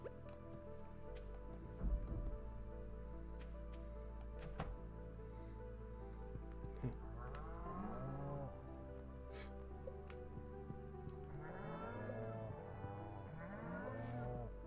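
A cow lowing in the farming video game Stardew Valley, several drawn-out moos around the middle and end, set against steady game music and small dripping sounds.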